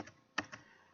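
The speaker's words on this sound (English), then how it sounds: "let's type http" Close, quiet keystrokes on a computer keyboard: a few soft clicks with one sharper tap in the middle, alone and without talk.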